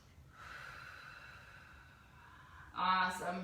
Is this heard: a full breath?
yes